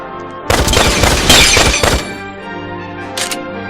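A grenade goes off in Valkyria Revolution, a loud close burst with crackling, shattering debris lasting about a second and a half, then a fainter crack shortly after.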